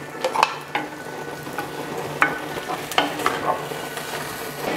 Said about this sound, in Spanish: Aquí ya estamos cristalizando la cebolla y el ajo.